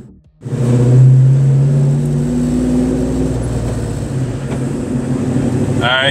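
A 1967 Shelby GT500 Mustang fastback restomod with 2007 GT500 running gear revs hard up close, a loud throaty roar that swells and then settles into a rumbling idle.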